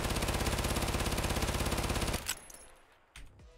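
A rifle fires full-auto in the video game Escape from Tarkov, shot from a crouch on a table. A rapid, even burst of loud shots runs about two seconds, then stops, followed by faint clicks.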